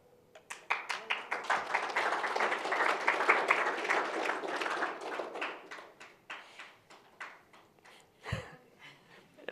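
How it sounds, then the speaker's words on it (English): Audience applause at a Linux conference talk on FreeBSD ports, a crowd clapping steadily for several seconds, then thinning into a few scattered, elongated claps from one person near the end. "Elongated clap at the back there."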